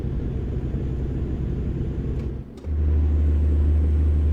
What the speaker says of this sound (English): the sound of the engine is going to get me